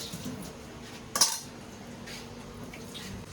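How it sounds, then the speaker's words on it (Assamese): Dishes clatter quietly under faint running water, with one sharp clink of metal on crockery partway through. "আমাৰ বায়ে বাচন ধুই আছে"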